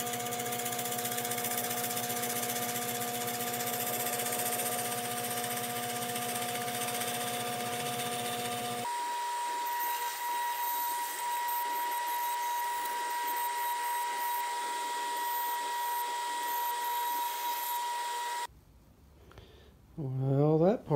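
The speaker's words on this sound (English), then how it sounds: "Just a few hundred holes or so drilled." A drill bores rows of shelf pin holes in cabinet parts, making a steady, loud mechanical whine that holds for a long stretch and shifts in pitch partway through, before it cuts off into quieter shuffling.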